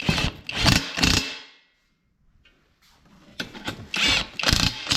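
Impact wrench driving 19 mm nuts onto the caster bolts of a VEVOR transmission jack, heard as two close, loud rattling bursts separated by a short silent pause.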